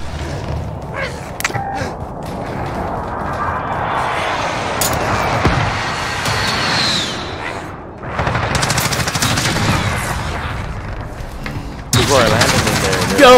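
Gunfire in the Warzone video game: repeated bursts of rapid automatic shots and booms that rise and fall over the whole stretch, loud and close, with voices in places.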